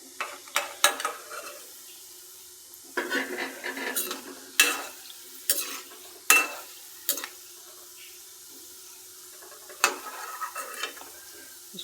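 Gulab jamun fry gently in a pan over low flame, with a quiet steady sizzle broken by scattered clinks and scrapes of a spoon stirring and turning them.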